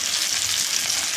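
Mackerel fries in oil on a tawa pan, giving a steady, dense sizzle with no voices.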